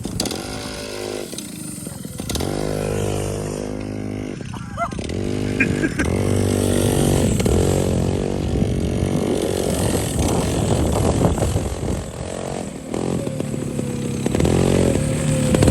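A Rotax Max racing kart engine revs hard with a buzzing, rising and falling two-stroke whine, loud and close throughout, with voices talking over it.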